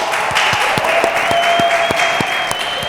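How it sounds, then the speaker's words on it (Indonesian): A studio audience claps for guest Angga Bejer on a scooter talk show, with evenly spaced, rhythmic claps over a bright, steady background hum and a faint sustained tone running underneath. "Tepuk tangan untuk Angga Bejer"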